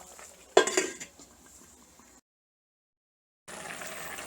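A lid clatters onto a cooking pot of drumstick stalks set to simmer, one sharp metallic clank followed by a brief rattle, then quiet kitchen background broken by a silent gap.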